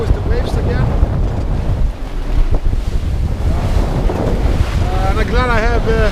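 Strong wind of nearly 30 knots roars across the microphone aboard a sailboat on the North Atlantic between Jan Mayen and Iceland, with waves surging around the hull and whistling gusts in the rigging, loud and continuous throughout.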